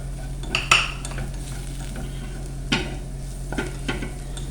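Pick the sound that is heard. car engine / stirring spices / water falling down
stirring spices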